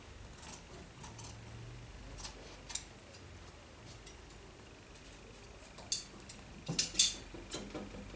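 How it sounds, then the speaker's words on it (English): Tailor's scissors cut out the full arm side of a draped shawl-collar garment, heard as faint scattered snips and metallic clicks, with a few sharper closer cuts near the end and no talking. "I continue with cutting out my full arm side."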